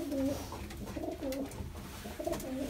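A Mardin breed pigeon coos close by in a few soft repeated phrases, each a low throaty warble, over faint background hiss.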